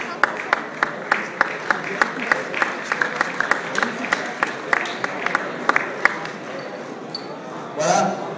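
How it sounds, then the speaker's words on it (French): Applause in a crisp, steady rhythm, fairly close, with faint voices underneath and a short rush of noise near the end. "je crois que ça mérite quand même des applaudissements très très forts"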